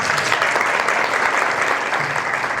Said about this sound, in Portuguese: Palmas para ela, né?